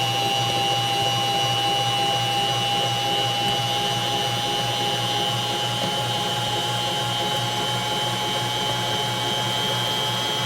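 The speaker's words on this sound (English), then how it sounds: "I'm going to turn the speed up on the mixer" An electric mixer whips cinnamon roll frosting of powdered sugar at high speed, giving a loud, steady motor whine with a constant pitch that runs unbroken throughout.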